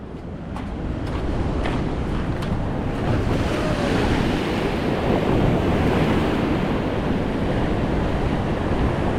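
Sea waves surge and wash continuously around a small fishing boat on choppy water, with steady wind rumbling across the microphone, loud and close throughout.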